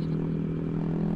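A Honda Vario 125 scooter with an aftermarket exhaust drones steadily at constant throttle, a loud, continuous low engine hum with no break.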